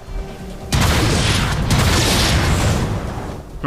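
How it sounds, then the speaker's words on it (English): In the Transformers: Fall of Cybertron video game, a wall is blasted apart: a sudden loud boom after a quiet start, followed by sustained rumbling, crumbling debris noise. "I seem to have destroyed the wall behind the Teletran store"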